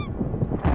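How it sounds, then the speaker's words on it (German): A short, nasal car horn honk in the video game Pineview Drive, loud and close, lasting under a second. "Soll ich mal hupen?"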